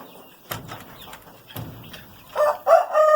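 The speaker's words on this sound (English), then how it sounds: "It's that rooster saying hello again." A rooster crows near the end, loud and close, after a few soft thumps and rustles in an otherwise quiet setting.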